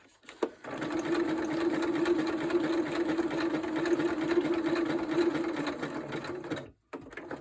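A sewing machine runs continuously at close range for about six seconds, a steady motor whir with rapid needle clatter, then stops abruptly.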